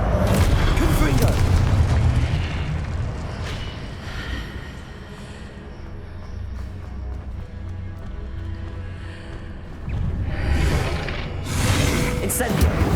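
Confringo explosion spell in the Hogwarts Legacy video game, a loud booming blast with a rumbling, roaring tail that fades, then a second burst near the end, mixed with game combat sounds.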